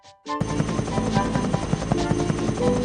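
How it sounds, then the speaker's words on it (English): A helicopter in a Thomas & Friends PC video game gives a steady, loud rotor drone with a rhythmic chop that starts abruptly after a brief moment of near silence and continues throughout. "Harold the helicopter will be able to find James if you'll help fly him over the island."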